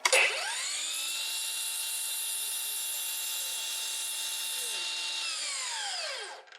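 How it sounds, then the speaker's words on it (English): A miter saw spins up and cuts through oak trim wood in a steady, loud, continuous whine lasting several seconds, then winds down as the blade slows to a stop. "pull your saw down, get your piece of wood, stick it up to the blade, and then cut"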